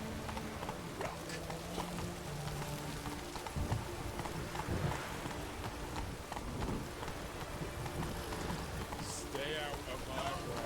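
Geralt's horse Roach trots through a rainy, thundery scene in The Witcher 3, its hoof clip-clops pattering steadily under falling rain and distant rumbles, with voices speaking over it.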